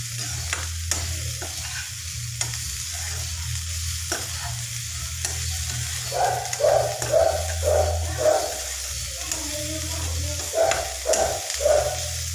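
Soybean and banana flower curry frying in a pan, a continuous sizzle with a spoon stirring and scraping in an even rhythm through the second half, close and fairly loud.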